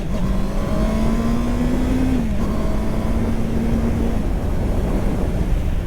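A 2023 Honda CBR650R four-cylinder motorcycle makes a full-throttle 0 to 100 run. The engine tone climbs steadily and loudly, dips briefly at a gear change, then keeps pulling, with heavy wind rush throughout.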